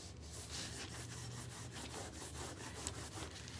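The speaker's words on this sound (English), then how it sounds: "I'm going into the crevices too with my rag because that'll smooth out the brush strokes" A rag wipes fresh paint into the crevices of a piece of wooden furniture, making soft, rhythmic rubbing strokes that repeat steadily, faint and close with no talking.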